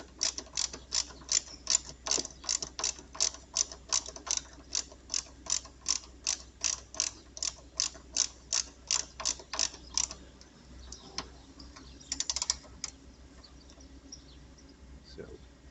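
A ratchet wrench unscrews a bolt from a motorcycle battery terminal, giving a long run of evenly spaced sharp clicks close up, then slowing into a few scattered clicks and handling noises, with no talking.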